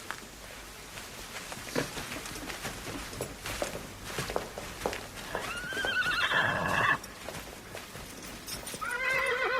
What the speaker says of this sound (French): Pierre, étrille le cheval de Messire Baglioni.